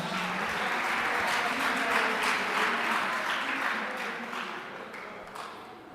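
Audience applause fills a school gathering on gender-based violence prevention led by learners, a dense, steady roar of many hands that holds loud for several seconds before gradually thinning out toward the end.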